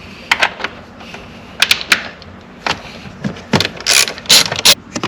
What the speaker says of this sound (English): this 10mm bolt that we're going to have to remove